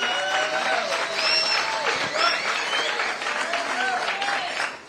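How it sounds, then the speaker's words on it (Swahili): Applause from an audience at a forum for people living with disabilities in Kenya, a sustained wash of clapping lasting several seconds with some crowd noise. "Now Samson Wawero, kuja hapa tumpigie makofi."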